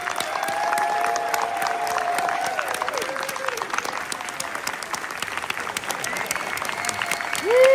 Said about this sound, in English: give a big Warner Brothers Studio Tour Hollywood round of applause for my very first guest